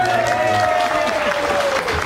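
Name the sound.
audience applause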